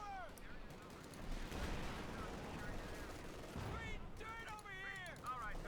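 MG42 machine gun fire in Company of Heroes 2 crackles in fast bursts amid other battle noise, with a commentator talking over the action throughout.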